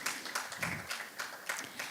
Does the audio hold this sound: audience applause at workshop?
yes